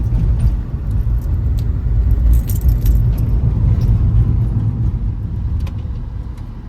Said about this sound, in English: And they're lots of keychains.